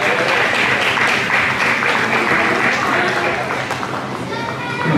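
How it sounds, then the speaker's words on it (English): Dance hall audience applauding junior students and their teacher after a New Vogue group final, steady loud clapping with crowd noise and voices mixed in, fading slightly toward the end. "Let's give them a round of applause."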